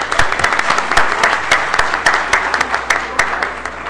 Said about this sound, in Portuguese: Uma salva de palmas para o André